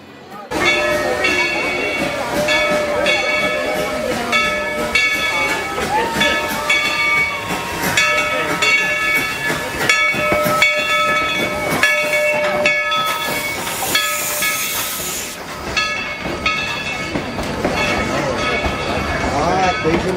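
A steam locomotive at Dollywood chugs and hisses steadily, with a sustained whistle tone and a sharp burst of steam near the end, loud and close.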